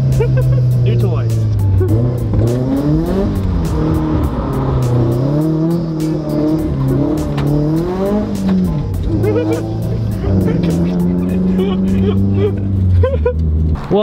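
A modified, boosted Subaru BRZ accelerates hard, its engine note climbing and dropping through repeated rising sweeps as gears change, loud and close from start to finish.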